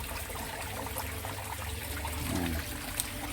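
Waste water from an aquaponic fish tank flows in a continuous, even hiss and trickle, with a faint gurgle near the end.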